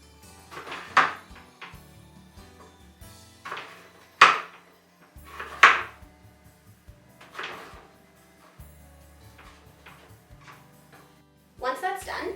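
Knife chopping vegetables on a cutting board, a few sharp separate cuts spaced a second or more apart, close and crisp, heard between stretches of talk.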